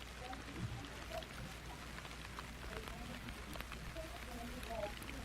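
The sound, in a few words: rain falling during cricket match rain delay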